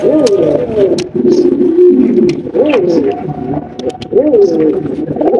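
A pair of blue bar Shirtin pigeons coo close by, giving three drawn-out, bubbling coos in a steady rhythm over faint background noise.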